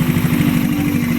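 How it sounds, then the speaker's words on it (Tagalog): A motorcycle fitted with a 30mm Evo-type carburetor idles close by, a steady low, even engine rumble with a regular pulsing beat and no voices. "Ito na yung motor ni boss na taga Makati."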